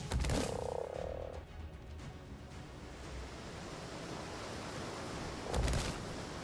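Frog croaking in the video game Ark Fjordur, a loud burst at the start and another near the end over a steady wash of wind and surf-like ambience.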